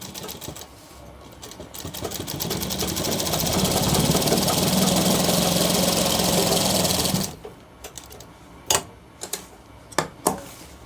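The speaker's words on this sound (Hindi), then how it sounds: "इसके भी यहाँ पे ऐसे सिलाई लगाएं।" A sewing machine stitching a shirt cuff runs in a fast continuous whirring chatter that swells and then stops abruptly, followed by a few sharp isolated clicks and knocks.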